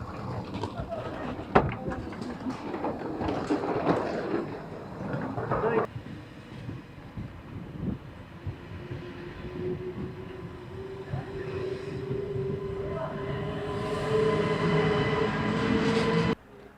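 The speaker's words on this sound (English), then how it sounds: "So the train's just gone behind me." A TGV high-speed train passing nearby, a loud rolling clatter that eases into a long rising whine as it pulls away.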